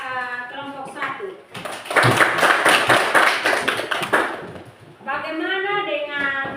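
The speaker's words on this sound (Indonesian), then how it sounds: "Kita tepuk tangan dulu untuk kelompok 1." A classroom of students clapping for a group after its presentation, a brisk burst of many hands lasting about three seconds, with a teacher's voice speaking just before and after.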